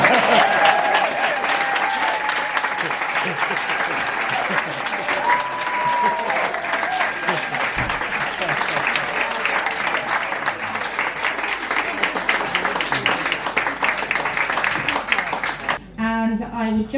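Sustained applause from a live storytelling audience fills the room, dense rapid clapping holding steady and loud for the whole stretch, with faint cheers or voices mixed in and a brief speaking voice emerging near the end.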